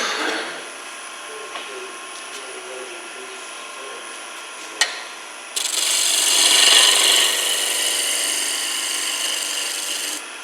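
A skew chisel cuts a wooden spindle turning on a lathe, first a light rubbing scrape, then a sharp tap and a louder, sustained hissing cut, close and continuous with faint speech underneath.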